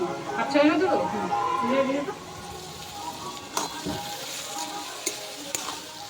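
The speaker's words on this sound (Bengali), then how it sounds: "পেঁয়াজগুলো লাল করে ভাজা হয়ে গেছে" Chopped onions and capsicum fry in a pan with garlic for a mutton and potato curry, a steady close sizzle with stirring. A voice talks over the first couple of seconds, then the frying continues alone.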